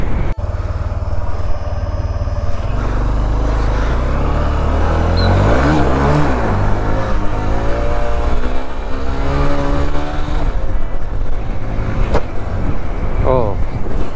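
Motorcycle engines, a Honda Shine and a Yamaha R15 V3 racing in third gear, drone and rev steadily throughout, with shifting pitch sweeps as they pass, under excited voices and road noise.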